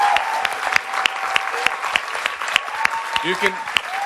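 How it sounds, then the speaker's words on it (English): Audience applause at a convention panel, a steady patter of clapping from a crowd with a voice speaking over it. "Please give a round of applause for our incredible badass women"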